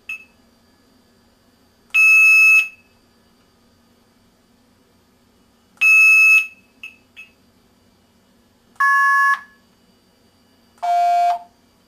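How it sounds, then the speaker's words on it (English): Software-generated MF phone phreaking code tones on a phone line: four separate bursts of clean stacked multi-frequency tones, each about half a second, with short blips between and a low line hum underneath, loud and close. "I think it keeps like double sending code tones or something"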